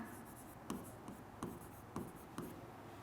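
Pen strokes writing a handwritten accounting entry for a partnership firm's dissolution, a series of short scratchy taps and strokes spaced about half a second apart, close and quiet over faint room noise.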